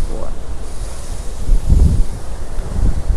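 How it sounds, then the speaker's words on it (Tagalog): Strong gusting wind from Hurricane Fiona in Bermuda, a continuous broadband rush with buffeting surges and microphone rumble, swelling louder midway. "Ganito lang yung hangin na niranasan"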